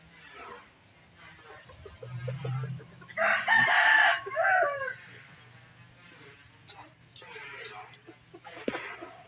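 Bantam chickens on a farm, one rooster crowing loudly near the middle with scattered clucks around it, while someone talks over much of the scene.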